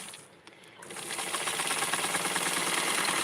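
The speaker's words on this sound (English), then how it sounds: "Crease it with the sewing machine." Home sewing machine stitching a crease along fabric for a Barbie doll dress, a steady fast mechanical whir that starts quietly and builds to a continuous close, even hum for most of the stretch, with no talking.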